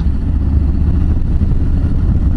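Harley-Davidson FXBB Street Bob engine while riding in fourth gear around 80 km/h on a cold day, a loud, steady low rumble with wind roar throughout and no voices.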